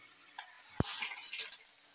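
Vegetables for shukto, a Bengali milk-based mixed vegetable dish, stirred in hot oil in a pan, with a soft sizzle under a sharp scrape of the spatula and several lighter clinks and stirs following.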